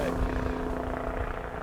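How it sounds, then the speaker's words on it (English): A helicopter passes overhead with a steady, rumbling rotor drone that fills the background. "now we got a helicopter going by"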